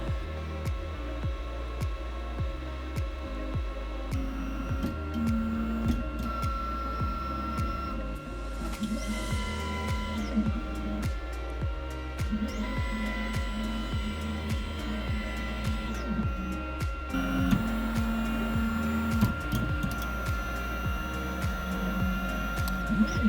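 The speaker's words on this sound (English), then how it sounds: "the printer is going to get ready. It's going to go through a warm-up cycle" A 3D printer warming up its print heads and bed: a steady mechanical hum with whirring motors and faint clicks and ticks, running continuously at close range.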